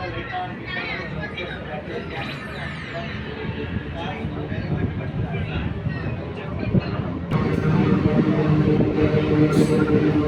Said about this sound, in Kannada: ನಾವೀಗ ದೇವನಹಳ್ಳಿ ರೈಲ್ವೆ ಸ್ಟೇಷನ್ನು ಬಿಡ್ತಾ ಇದೆ